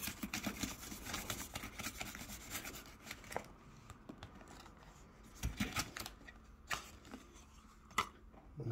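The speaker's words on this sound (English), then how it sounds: "is this the quickest way to cut tomatoes?" A knife quickly chops through tomatoes, a fast run of close cutting taps and scrapes, busy at first and then sparser, with no voices over it.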